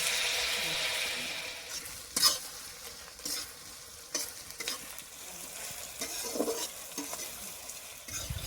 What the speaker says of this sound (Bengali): আমি এলাই, লবঙ্গ, দারচিনি আর একটা ফুল আছে দিয়ে দেবো। তেল দেবো।